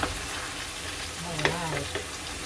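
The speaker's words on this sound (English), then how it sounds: "I'm going to add the yams now." Yams go into a frying pan of chicken afritada, a steady hiss of frying with a brief stir or clatter midway as they land, nearby and moderately loud.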